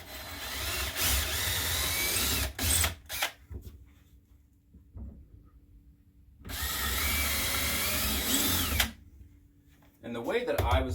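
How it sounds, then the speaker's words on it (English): A power drill whirs close up in two long runs and a few short spurts, drilling screw holes for a floating shelf, with quiet gaps between the bursts. "drill the holes here for the screws."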